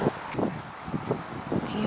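Gusty wind on an outdoor walk near a park buffets the microphone in low rumbling bursts, fairly close and steady throughout, with no speech.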